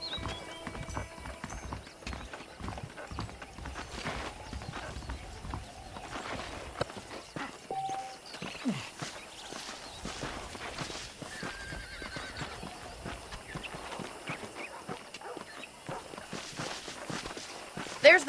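Horse hooves clip-clopping in the Red Dead Redemption video game, a steady walking rhythm of hoofbeats with an occasional whinny, moderately close, under a voice talking.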